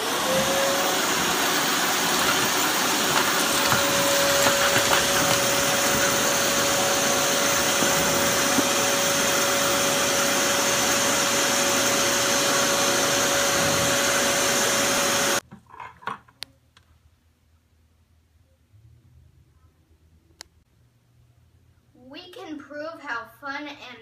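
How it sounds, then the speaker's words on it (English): A vacuum cleaner fitted with a Lego Vac bucket attachment roars loud and steady for about fifteen seconds, sucking up loose Lego bricks, then cuts off abruptly, leaving near-silence with a few faint clicks and brief voices at the end. "leaving our Legos in the Lego Vac bucket, and the dirt is filtered into your vacuum."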